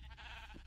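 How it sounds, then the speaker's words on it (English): A single short sheep bleat from the video game Minecraft, brief and fairly quiet, heard alone. "I really want to just find those sheeps and then just build my bed"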